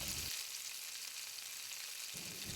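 Pitha frying in a cartoon kitchen, a steady bright sizzle of oil hissing continuously, with a brief muffled clatter at the start and end.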